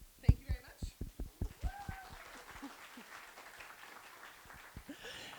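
Audience at a Bike Anchorage Trail Tales storytelling evening claps in a short burst of sharp, separate claps that quickly fades into faint scattered clapping and low room murmur.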